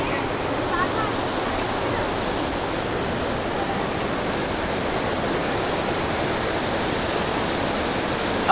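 Water rushes and sprays at a monsoon waterfall viewpoint near Ranchi, where the spray soaks the ground. The roar is a dense, unbroken hiss that holds steady throughout.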